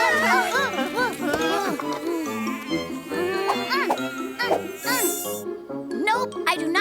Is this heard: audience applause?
no